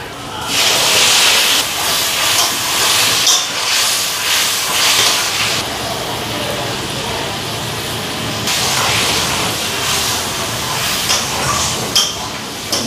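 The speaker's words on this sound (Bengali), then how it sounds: "এদিকে আলুটা ভাজা বসাইলাম" Potatoes frying in a pan alongside fish, a loud continuous hissing sizzle close up that swells and eases, with a faint voice briefly underneath.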